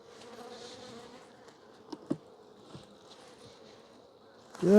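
Honey bees hum in a soft, steady drone around an open hive, with a few faint taps and a louder knock at the end.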